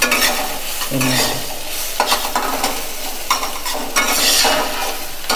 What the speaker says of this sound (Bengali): এটা ভালো করে রসুন আদা আমি এটা ভালো করে ভেজে নিচ্ছি।